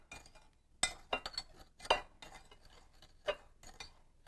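Sea salt being mixed in a bowl for a pork shoulder rub, heard as a few separate clinks and scrapes of a utensil against the bowl, close and fairly quiet with short pauses between strokes.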